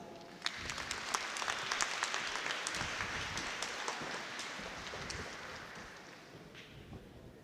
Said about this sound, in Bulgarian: нека силно да аплодираме предстоящото шоу и не бъдете скромни в аплодисментите си